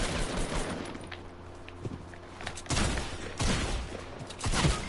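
Rapid Fortnite gunfire in bursts, steady rattling fusillade with louder volleys near the end, fairly quiet overall and with no talk over it.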